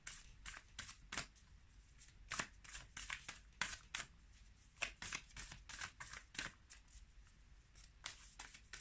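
Oracle cards being shuffled by hand, a run of quick papery riffles and flicks in irregular bursts, close and fairly soft with no talking.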